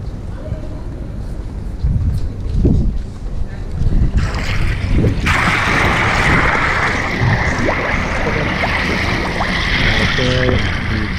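Water sloshes and splashes as people lower themselves into an ice bath outdoors, with splashes and trickles over a windy background and voices talking nearby.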